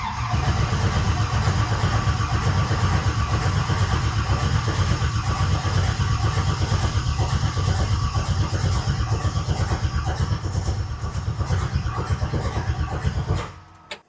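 A 1955 Chevy engine is cranked by the starter with no ignition, a steady rhythmic whirring churn that runs continuously for about thirteen seconds and then cuts off abruptly.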